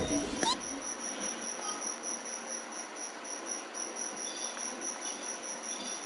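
Crickets chirp in the Genshin Impact video game, a high, steady insect trill that carries on evenly after a brief sharp click at the start, fairly quiet, with no clear talk.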